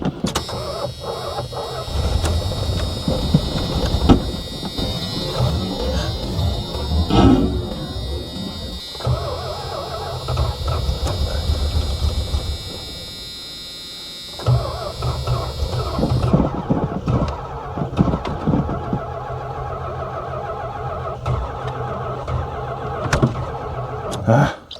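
A 1984 Dodge Ramcharger that sat ten years in the desert cranks repeatedly without catching, starter grinding in long bursts with pauses between, while people talk nearby.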